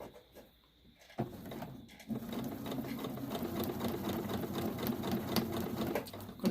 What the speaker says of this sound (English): I'm going to place my fabric under the presser foot, drop my needle, back stitch.